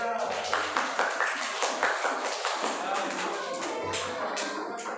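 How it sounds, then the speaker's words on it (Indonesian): A classroom of students claps for their group, Garuda, with quick, close hand claps that run steadily under children's voices throughout. "Tepuk tangan buat kelompok Garuda"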